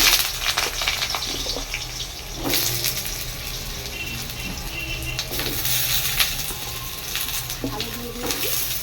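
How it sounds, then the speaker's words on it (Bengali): Diced potatoes fry in hot oil in a pan with a steady, close sizzle and some bubbling and stirring noises, with no talking. "হালকা করে ফ্রাই করে নেব।"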